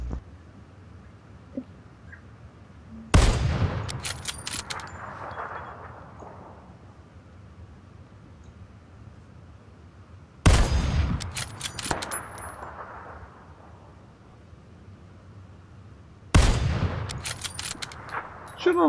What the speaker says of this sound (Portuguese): Não sei onde o tiro tá batendo